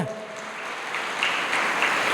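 An audience at a Kannada spiritual discourse breaks into applause, a continuous wash of clapping that swells slightly and holds steady, heard from a moderate distance.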